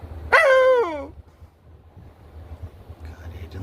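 A dog gives a single short, whining bark outdoors, close and clear, followed by quiet ambient noise with faint wind.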